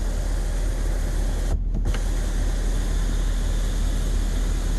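The twin panel sunroof motor on a 2018 Ford F-350 Limited pickup runs as a steady, loud electric whir that fills the whole stretch, with a brief dip partway through and no talking.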